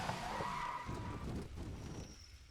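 Race car tyres skidding with no grip in a racing video game set at the Bremgarten circuit, Swiss GP, a short squeal fading with engine noise behind, fairly quiet.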